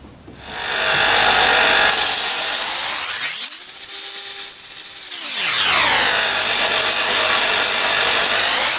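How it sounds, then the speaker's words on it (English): A bench grinder smooths the edges of holes in a bushcraft knife blade, its motor spinning up loudly, dipping in pitch as the steel is pressed against the wheel, then rising again, grinding continuously and close. "put this on a bench grinder just to smooth off the edges"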